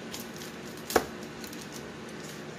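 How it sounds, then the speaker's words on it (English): A knife cuts through a cheese pizza in a single sharp crunching stroke, close and distinct against a quiet room, with no talking. "Let me go ahead and cut it."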